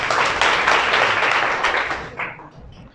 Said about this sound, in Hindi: ताली मारो एक बार रे।